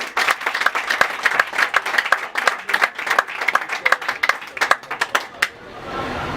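Sharp, crisp hand claps from an audience at an inauguration ceremony greet the president, dense and near, then die away at the end into faint background murmur.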